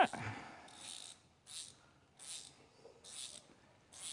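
Ratchet wrench tightening lug bolts on a tire, a few soft rhythmic bursts of ratcheting clicks spaced about half a second apart, quiet and close with no talk.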